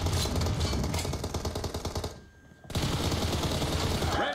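Rapid, rhythmic pistol fire in the video game PUBG Mobile, loud and close, rattling in quick bursts, then a brief pause before the shots resume just as fast.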